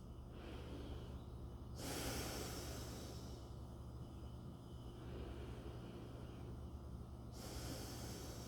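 Breathing through a homemade protective face mask comes as slow, loud, close inhales and exhales, each a long airy rush lasting a few seconds, heard alone.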